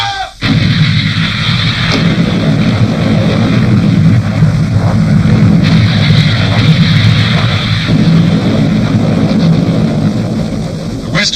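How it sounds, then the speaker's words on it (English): A World War Two artillery barrage opens as Australian troops advance on a steep ridge, with heavy guns firing in a relentless, loud, overlapping stream of booms that barely lets up. "2 days after Christmas Day, 0 hour, the barrage begins."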